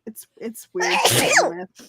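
A single loud, close sneeze bursts out in the middle, with brief bits of speech just before and after it.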